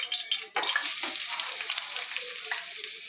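Onions frying in a pan, a bright, dense crackling sizzle that flares up loudly after a brief hiss and then carries on steadily close by, with no talking.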